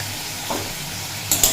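Potato and raw papaya pieces frying with salt and turmeric give a steady, close sizzle with a couple of brief stirring scrapes near the end, no voices.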